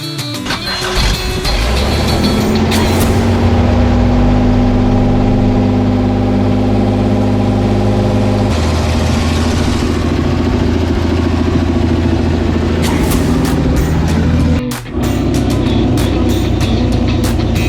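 A Toyota Land Cruiser 2F engine fitted with a new carburettor idles steadily and loudly close by, its low harmonic drone holding even throughout, with a brief dip near the end.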